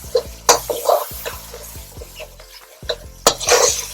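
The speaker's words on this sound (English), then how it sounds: "I'm going to mix that on high flame again" Chilli paneer tossed on high flame with Ajinomoto and black pepper, close spatula scrapes and metal clanks against the pan in an uneven rhythm over a soft sizzle.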